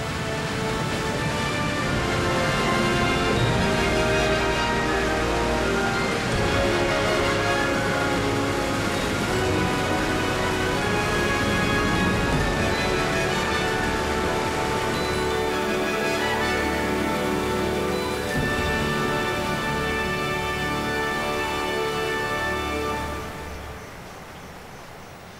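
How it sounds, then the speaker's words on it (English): Iguaçu Falls, the world's largest waterfall, where huge volumes of water plunge up to 82 meters amid dense rainforest, roaring as a steady broadband wash that stays loud and constant before dropping away near the end. "Huge volumes of water plunge up to 82 meters down the Iguaçu Falls."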